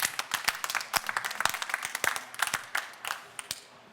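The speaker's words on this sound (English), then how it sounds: "Let's give him a clap, man." A small group claps together in a room, quick uneven hand claps rising then thinning out and fading near the end.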